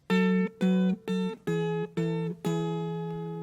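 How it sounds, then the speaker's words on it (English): Clean guitar plays a short turnaround lick varying a well-known song riff, six plucked notes in an even rhythm with the last one left ringing out, quiet and unaccompanied. "It's like a little turnaround lick."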